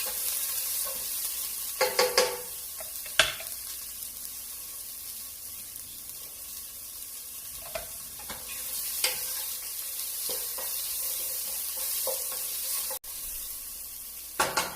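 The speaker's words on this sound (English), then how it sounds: "To that, we're going to add a little salt and freshly cracked pepper, and then continue to mix" Egg drop soup is stirred in a pot after salt and cracked pepper go in, a continuous sizzling hiss with scattered scraping and clinking strokes of the spoon, moderately close and with no talk.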